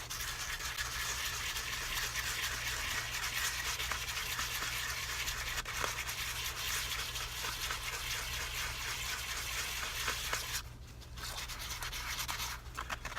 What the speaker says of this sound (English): So this sandpaper is intended to be done wet.